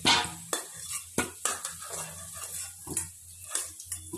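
Fried potatoes are stirred and lifted out of hot oil in a pan. A spatula scrapes and clinks against the metal in a quick, irregular rhythm while a soft sizzle runs underneath, heard close up.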